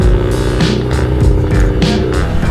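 A motorcycle engine, loud and close, with rhythmic revving surges as the bike pulls away, under steady low rumble and wind.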